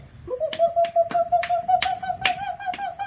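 Seven or eight loud, enthusiastic hand claps ring out close by against a sustained whistle-like tone that holds steady throughout.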